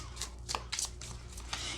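Tarot cards being shuffled by hand in short, papery riffling bursts, several quick flutters spaced close together, quiet and close with a low background hum and no talking.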